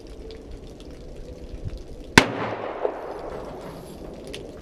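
A single sharp gunshot cracks out at an indoor-style gun range, a loud, close report that rings and decays over a low background hum, with no speech.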